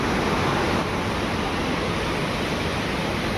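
Steady, loud broadband rush of falling water from a nearby waterfall beside Dhutpapeshwar temple in Rajapur, Ratnagiri, continuous and unbroken throughout.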